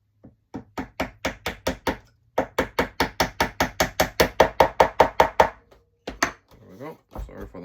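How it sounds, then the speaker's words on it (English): A small hammer taps a pin into the planking of a USS Missouri model, in a long run of quick, evenly paced knocks that pause briefly and resume, followed by a few scattered taps and some rustling at the end. "just use a hammer to get it into the correct place"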